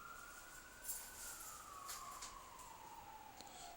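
An ambulance siren wails faintly in the distance, one long gliding tone slowly dropping in pitch as it passes by, set against a quiet background with no talking.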